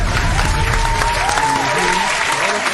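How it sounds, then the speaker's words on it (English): Sustained audience applause at a radio broadcast event, a dense steady wash of many hands clapping at close range, continuing evenly for a few seconds with faint voices mixed underneath. "Give him a round of applause."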